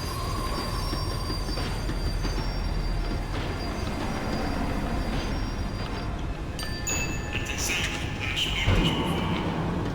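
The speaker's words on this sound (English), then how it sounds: "The tram was slowing down, and I'd only just gotten on board." A tram in the Max Payne 3 video game slows down on its rails, a continuous rumbling ride with rising metallic wheel squeals and screeches near the end, heard alone without talk.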